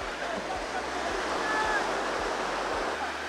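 Sea waves at Turtle Beach make a continuous broad roar of surf, with wind buffeting and faint voices mixed underneath.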